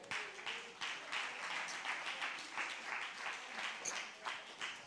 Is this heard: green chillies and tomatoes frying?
no